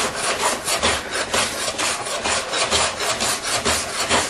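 Hand plane shaving a glued-up pine side piece for a cheap DIY bookshelf, with close, loud rasping strokes repeating in a steady rhythm and no talking.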